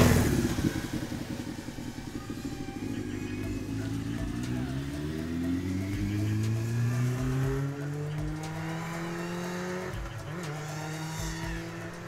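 A motorcycle engine roars close by, its pitch sweeping upward as it accelerates past, staying loud throughout the run.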